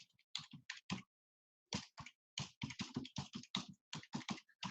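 Bursts of quick keyboard typing on a computer, clicking keys in short runs separated by brief pauses, close and clear with no talking.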